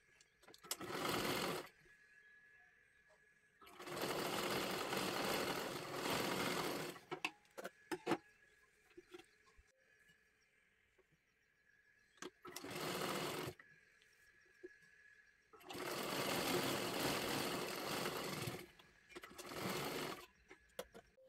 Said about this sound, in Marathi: सर्वात आधी इथे आपल्याला शिलाई करून घ्यायची आहे